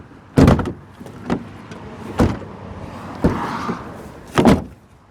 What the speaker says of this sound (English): I'm just going to close that other door because it's a bit too squeaky for what I want to do.